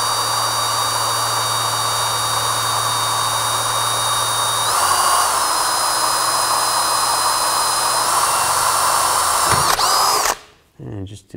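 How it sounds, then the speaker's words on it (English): A power drill boring a small pilot hole to mount a 7-way trailer connector on a 2000-2006 Chevy Tahoe whines steadily and loudly at high speed for about ten seconds, its pitch shifting slightly, before stopping abruptly. "you can take a small drill bit and start with a pilot hole"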